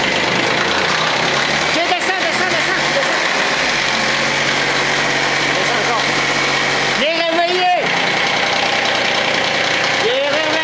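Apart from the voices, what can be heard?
Kioti CS2220 tractor engine cold start at -22 °C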